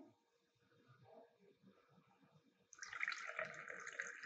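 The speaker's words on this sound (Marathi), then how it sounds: "आता ह्याच्यामध्ये आपण डायरेक्ट पाणी ॲड करणार आहे" Water poured directly into a spoonful of pink sherbet premix, a sudden steady splashing pour that starts partway through after a quiet stretch of low rumbling, close and fairly faint.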